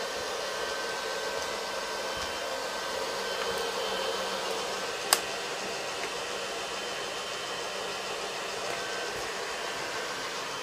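A hair dryer runs while its output wire is tested for current, giving a steady, even broadband whoosh that holds at a constant level throughout, with one brief sharp click midway and no talking.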